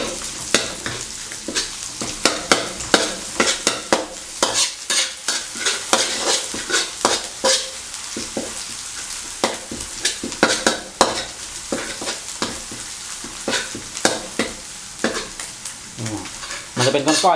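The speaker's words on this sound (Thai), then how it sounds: "ใส่น้ำมันไปแล้วก็เครื่องนะครับ ที่เราโขกไว้ก็เอาลงมาผัดเลยฮะ" Pounded curry paste with shrimp paste and roasted shallots and garlic stir-fried in plenty of oil for spicy catfish, a steady loud sizzle under repeated scraping strokes of a utensil in the pan.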